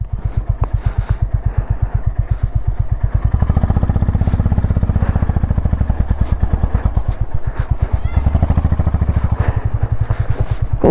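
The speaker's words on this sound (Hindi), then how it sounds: "बाइक की पार्किंग मैं करूँगा यहीं पे।" Honda Highness motorcycle engine idles nearby while the bike is parked in Hanle, Ladakh, a loud, steady thumping single-cylinder pulse with even rhythm throughout and a faint voice briefly underneath.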